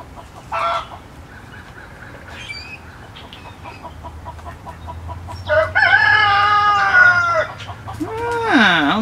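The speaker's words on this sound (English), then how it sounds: "All the chickens are out making noise." Chickens cluck in short bursts before a rooster crows loudly twice, with a low hum underneath and no talking.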